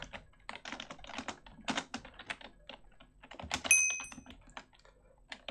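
Quick bursts of keystrokes on a computer keyboard, close and fairly quiet, arriving in uneven clusters with short pauses between them, and a brief bright chime partway through.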